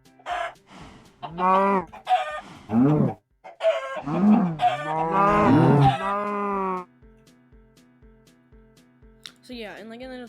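Minecraft video game farm animals, chicken clucks mixed with cow moos, sound in several loud bursts over the first seven seconds, then a quieter rhythmic ticking, with a final brief animal call at the end.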